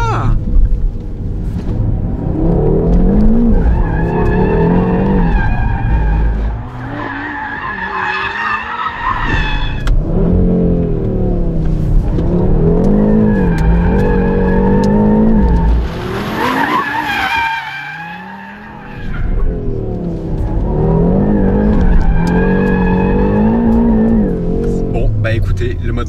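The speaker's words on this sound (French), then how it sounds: "être invité par Audi à faire des glisses en RS3" An Audi RS3 drifts with tires skidding and squealing on a loop of steady engine roar, close and loud throughout, with a brief dip in the middle.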